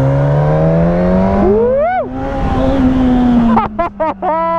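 A Suzuki GSX-S 1000 motorcycle rated at 145 hp accelerates at high revs, its loud engine sweeping up and dropping between rapid gear shifts, heard from the rider's position amid wind noise.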